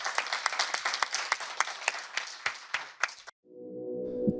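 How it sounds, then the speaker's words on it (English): Audience applause closing a live conversation session, a dense wash of clapping for about three seconds that cuts off abruptly, followed by a quieter low background hum. "give yourselves a round of applause for coming to this session"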